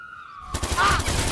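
Burst of gunfire from the Watch Dogs 2 video game, a dense rapid volley loud in the foreground, breaking in suddenly after a quieter stretch and continuing to the end.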